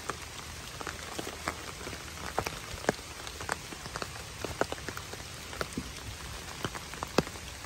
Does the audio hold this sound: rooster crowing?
no